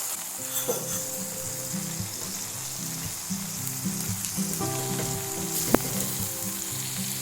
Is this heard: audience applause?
no